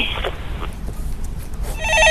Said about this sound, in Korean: 네, 전화 받아보겠습니다.